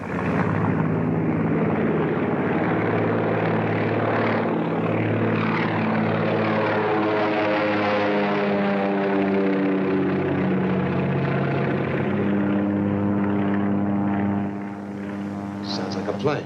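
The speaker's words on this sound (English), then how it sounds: "Sounds like a plane." Propeller plane in a 1939 Columbia serial drones overhead with a loud, sustained engine hum whose pitch slowly bends as it passes, fading slightly at the end.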